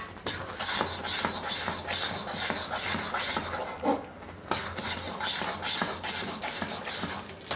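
Urad flour roasting in a pan for adadiya, stirred continuously with a close, steady scraping and shuffling that pauses briefly once, with no speech.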